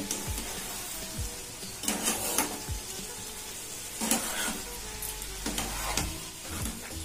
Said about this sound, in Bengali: বেশ কিছুক্ষণ সময় ধরে ঝিঙে আর আলুটাকে সমস্ত মশলার সাথে কষিয়ে নিয়েছি।